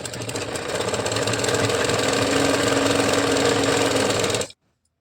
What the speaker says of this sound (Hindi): अब आपको डबल सिलाई लगा लेना है।